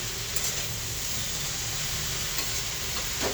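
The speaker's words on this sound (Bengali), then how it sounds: "এবার এভাবে নাড়াচাড়া করবে, নাড়াচাড়া করতে করতে যখন ধরো ভাজা ভাজা হয়ে এসছে" Fenugreek leaves are stirred in a hot pan, giving a steady close sizzle and hiss of frying that holds evenly throughout, with no voices.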